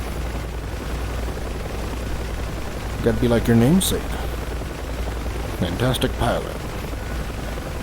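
A UH-1H Huey helicopter engine and rotor in DCS: World give a steady, loud droning rumble that fills the whole stretch, with people talking over it in two short bursts.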